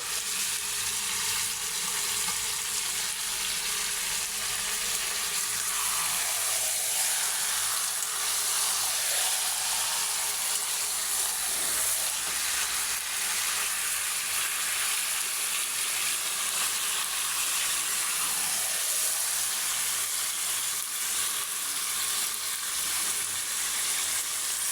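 Meat and radish fry in a pan with a steady, even sizzle that hisses on without a break while being stirred, close by and with no voices.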